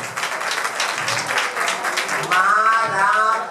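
Applause from a bar crowd at a drag show anniversary night, a brief steady wash of clapping, fairly loud throughout with a brighter tone toward the end.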